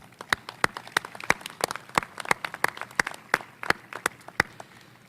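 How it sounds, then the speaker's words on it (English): Sparse, rhythmic clapping at a university commencement, a few distinct claps about three times a second over quiet crowd murmur, fairly faint and steady. "Let's give them a round of applause."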